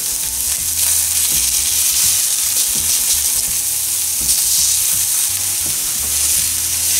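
Jimmy Dean sage sausage and onion fry in a pan with a loud, continuous crackling sizzle, punctuated by repeated low knocks and scrapes of a spatula breaking up the meat; no voices.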